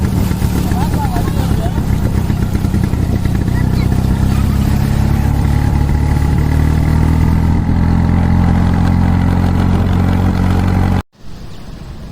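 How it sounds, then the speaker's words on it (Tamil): A motor scooter engine hums steadily under continuous chatter as it rides through river water, with a low rumble and splashing texture throughout, briefly cutting out near the end. "நம்ம வண்டி தண்ணியில் போகுது"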